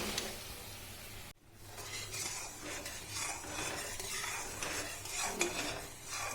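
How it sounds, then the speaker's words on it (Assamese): Jaggery being stirred in a pan for laru, a steady scraping and rattling of the spoon against the metal with a soft sizzle, close and continuous, with a brief dip in the middle. "এয়া মই লৰাই আছোঁ গুড়খিনি।"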